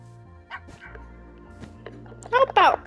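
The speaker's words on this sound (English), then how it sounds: "And then you feed the puppies, and then they become grown up." Puppies in the video game Minecraft give a few short yipping barks, a quick pair of high yelps near the end standing out over faint background sounds and a voice.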